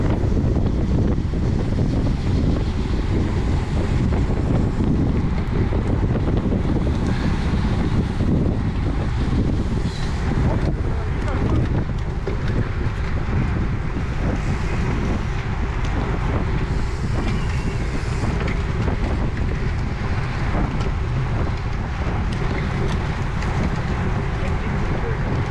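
Strong wind buffets the microphone during a Cat 4/5 spring bike race, a constant loud rumbling roar with gusty surges and no break across the whole stretch.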